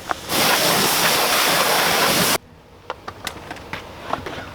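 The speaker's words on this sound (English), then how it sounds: "I'm gonna be using a pressure washer today" A pressure washer blasts the wheels of a Lexus GSF with a loud, dense, roaring spray for about two seconds, then stops abruptly. After it cuts off, scattered drips and small knocks are heard close by.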